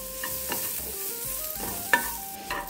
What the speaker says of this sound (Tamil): அதையும் போட்டு நல்லா வதக்கிக்கலாம்